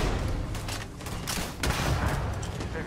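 Grenade launcher firing in the Starfield video game, dense booming gunfire and blasts in a busy combat mix that fills the whole stretch, loud and continuous.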